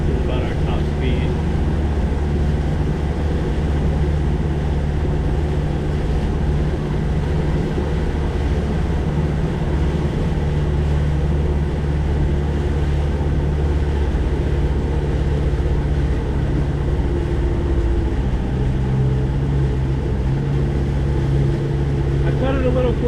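A boat engine drones steadily at low pitch, loud and constant, at top speed without getting up on plane, with wind and water noise blending in throughout.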